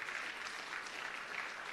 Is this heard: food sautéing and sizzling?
no